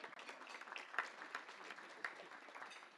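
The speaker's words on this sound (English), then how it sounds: "Yeah, you can clap." Faint, steady applause from an audience at a chamber of commerce State of the County address, a dense wash of many hands clapping with no single claps standing out.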